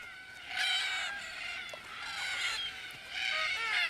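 Red-tailed black cockatoos call at dusk as they gather at a waterhole in the Australian outback, harsh grating squawks repeating in several bursts, moderately close with overlapping birds.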